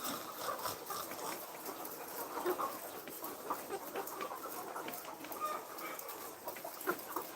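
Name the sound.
poultry birds calling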